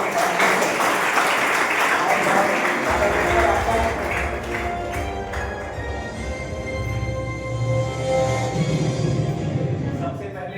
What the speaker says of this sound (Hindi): आप तालियों से स्वागत करें डायरेक्टर महोदय का